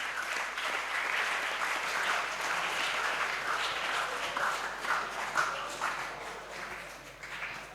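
Applause rolls through a talk show hall as a speaker is introduced, a dense, steady clapping from the crowd that gradually thins and fades toward the end.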